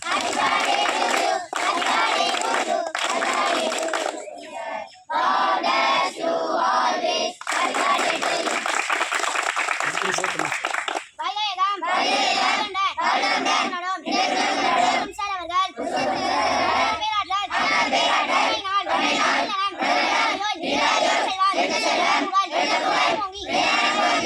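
A large crowd at a birthday celebration shouts loudly and excitedly in unison, with many voices chanting and cheering in repeated bursts throughout, close and energetic.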